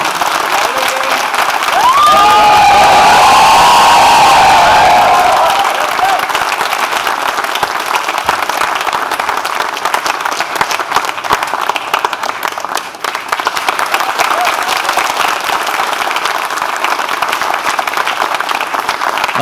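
Sustained audience applause and cheering at a staged play as the director comes onstage, loud and dense at first, then settling into steady clapping that continues under a voice speaking.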